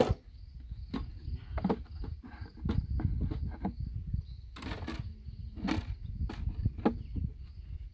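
Honey bees buzz steadily around a 3D-printed hive, a close continuous hum broken by scattered sharp clicks and taps from handling of the hive parts.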